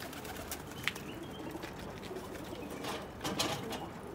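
Pigeons coo softly around a pigeon tower, with low murmuring calls, a sharp chirp and a few wing flutters over steady outdoor background noise.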